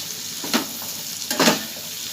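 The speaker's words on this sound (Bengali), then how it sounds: "আমরা আলুটা একটুখানি নাড়াচাড়া করে নিয়েছি" Potatoes fry in a hot pan with a constant loud sizzle, and two distinct bursts of stirring scrape through it as they are turned over.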